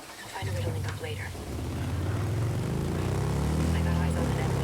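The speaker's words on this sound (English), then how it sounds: "I got eyes on an enemy chopper." An enemy helicopter in the shooter game Ghost Recon Breakpoint drones with a steady low rotor and engine rumble that grows louder and fuller, with voices talking over it.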